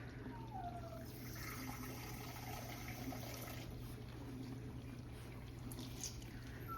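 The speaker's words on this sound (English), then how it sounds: "we're putting water in that next" Water is poured into a cooking container, a faint, steady trickle and gurgle running for several seconds over a constant low hum, with no voices.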